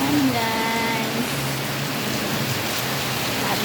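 Heavy rain pours in a steady, dense roar that fills the whole stretch, a constant close wash with no break.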